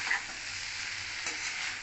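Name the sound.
stirring small fish curry with potato and eggplant in pan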